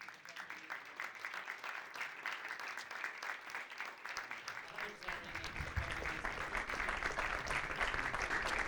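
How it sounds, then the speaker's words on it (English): Applause from a conference audience at a high-level policy dialogue, a steady dense patter of clapping throughout that swells louder toward the end, with a voice faintly audible beneath. "I want to give an extra applause to our dear friends from IPDAL"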